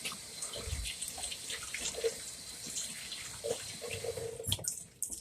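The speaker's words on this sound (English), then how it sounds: "And wash my hands." Tap water runs steadily from a kitchen faucet while hands are washed after handling raw meat, a continuous moderate splashing with small bursts and clatters near the end.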